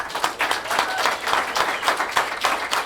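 An audience at a quarterly meeting claps steadily and fairly loudly, a dense, even wash of hands with no talk over it.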